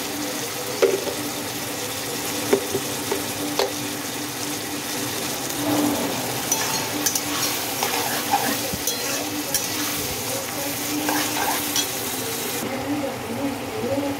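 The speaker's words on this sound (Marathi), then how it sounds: "हे सगळं आपण व्यवस्थित फ्राय करून घेऊया" Tomatoes frying with salt for mutton biryani, a steady sizzle with intermittent scraping stirs of a spoon in the pan, close and moderately loud throughout.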